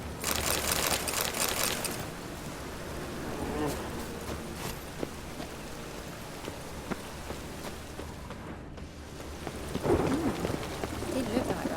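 Rain and rolling thunder in a wet Witcher 3: Wild Hunt game scene, with steady rainfall throughout and louder rumbling swells near the start and end. Voices and occasional footsteps sound under the storm.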